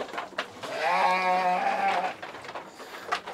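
Crossbreed sheep bleating at a goat and sheep farm, one long wavering bleat with a shorter call after it, close and fairly loud with light background noise and no talk.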